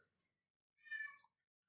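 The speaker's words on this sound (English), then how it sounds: "Oh, I hear a cat in the background." A single cat meow sounds faintly in the background of a quiet room, one short drawn-out call lasting about half a second with near silence around it.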